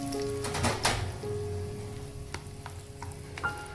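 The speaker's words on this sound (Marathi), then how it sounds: "आणि फोडणी या चटणीमध्ये छान मिक्स करून घ्यायची." Hot oil tempering of crackling mustard seeds and Byadgi chillies sizzles as it is stirred into raw mango chutney, with a soft frying hiss, scattered pops and a few sharp utensil clinks.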